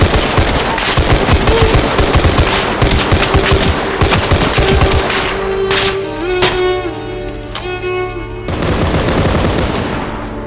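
Dense bursts of automatic and single-shot gunfire crackle through close-quarters urban combat in Arma Reforger, rapid overlapping volleys giving way to sparser shots and a lingering ringing tail before another loud burst.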